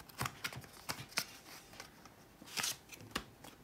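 Packaging for an Apple Watch Series 3 Nike+ band is opened close up, giving a series of crisp paper and cardboard snaps, tears and rustles in an uneven rhythm, with no talking.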